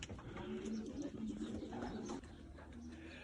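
Racing pigeons coo softly in a garden loft area, a faint low repeated cooing with light background rustle.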